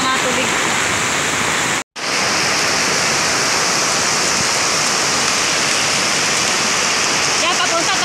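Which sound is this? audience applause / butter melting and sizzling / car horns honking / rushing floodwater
rushing floodwater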